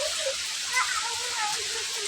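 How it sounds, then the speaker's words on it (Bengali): In a village, steady rain hisses evenly and close over short stretches of speech. "মামা বৃষ্টিতে ভিজো না"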